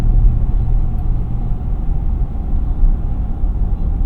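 Ford F-250 Lariat pickup with the 7.3L V8 accelerating, heard as a steady, heavy low engine rumble with road noise throughout, no distinct revs standing out.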